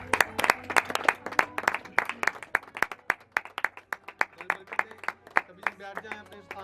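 A church congregation claps in a steady rhythmic beat, many hands striking together in quick repeated bursts that fill the room for several seconds.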